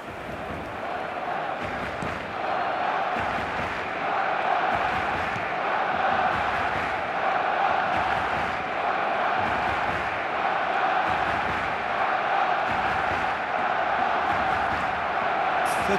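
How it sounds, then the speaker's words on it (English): Steady stadium crowd noise in the eFootball video game, a sustained roar with rising cheers and whoops that runs continuously throughout, with faint commentary voices underneath. "at least the crowd are appreciative of his efforts"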